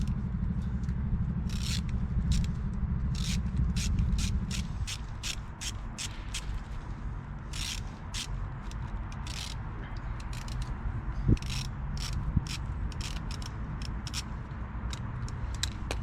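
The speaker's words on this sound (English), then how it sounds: "What I do need though is my socket wrench." Socket wrench ratchet loosening the positive terminal on a car battery, a quick run of sharp clicking bursts repeating steadily over a low mechanical hum, close and fairly loud with no talking.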